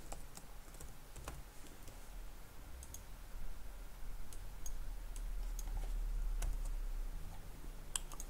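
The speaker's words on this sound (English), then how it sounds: "my keyboard is acting up here" Light clicking and typing on a malfunctioning computer keyboard, scattered, quiet taps with uneven rhythm over a faint steady background hiss, with no voices.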